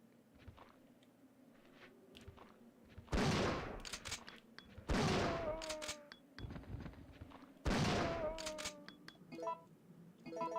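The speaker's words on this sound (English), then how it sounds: "I'll shoot you with a shotgun." Three loud, spaced shotgun blasts from a video game ring out in an intense shooting scene, each a sharp broadband boom with a short decaying tail, separated by quieter rustling and faint game background.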